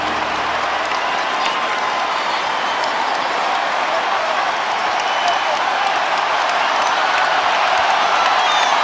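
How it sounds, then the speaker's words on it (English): A basketball arena crowd in Portland, at a 2011 playoff game between the Mavericks and Blazers, roars and applauds in a dense, sustained wash of noise, with a commentator talking over it. "Andre Miller asking for the crowd."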